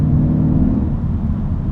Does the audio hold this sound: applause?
no